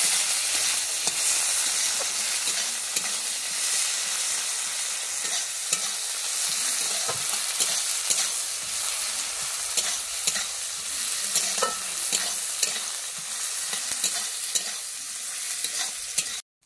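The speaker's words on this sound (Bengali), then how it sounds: "কুচানো পেঁয়াজটা দিয়ে আমি ভালোভাবে ভেজে নিচ্ছি" Chopped onion frying in a pan with black cumin seeds for a Bengali prawn and elephant-foot yam curry. A dense, steady sizzle runs for the whole stretch, with stirring scrapes at close range and no voices.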